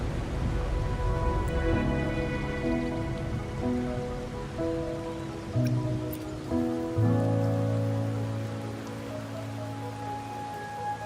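Rain falls steadily in the game Wuthering Waves, a continuous soft patter heard under gentle melodic tones.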